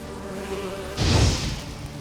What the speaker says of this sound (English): And what are these swarms of bees?